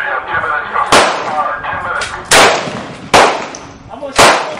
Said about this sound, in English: I'm going to shoot over one target to the right.